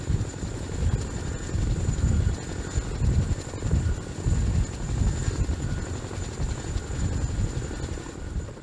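A CH-47 Chinook tandem-rotor military helicopter roars steadily and loudly, with a heavy pulsing rotor thump and a constant high engine whine throughout, no voices.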